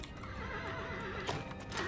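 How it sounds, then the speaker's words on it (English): Video game horse whinnying loudly for nearly two seconds, a wavering high neigh over steady in-game background sound, with faint hoof clops near the end. "See a horse."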